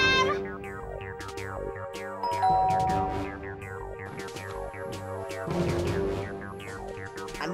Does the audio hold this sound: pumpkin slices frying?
no